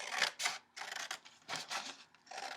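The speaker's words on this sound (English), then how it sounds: "You're going to take your scissors" Scissors snip through a paper plate in a quick series of crisp, close cuts, about six bursts of crunching paper separated by brief pauses, with no voices.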